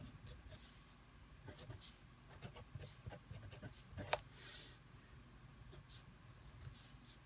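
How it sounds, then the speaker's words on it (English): Pen or pencil writing out a minor scale by hand on paper, soft close scratching strokes with a sharp tap midway, faint and steady. "In fact, let's write our scale out."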